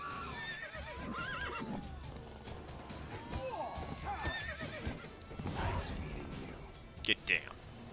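In the video game The Witcher 3: Wild Hunt, several horse whinnies ring out amid hoofbeats and scuffling, with people talking over the commotion.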